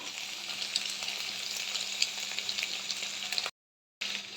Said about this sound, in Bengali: পেঁয়াজটা একটু ভেজে এতে আমি এখন একটা ডিম দিয়ে দিব, টমেটো কাঁচামরিচ দিয়ে দিলাম